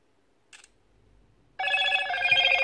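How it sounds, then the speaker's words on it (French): A Motorola Moto G8 smartphone plays its notification tone, a bright multi-tone chime that starts suddenly and rings on steadily after a brief earlier blip, close and fairly loud with no talking. "ce petit bruit de notification Made in Motorola aussi"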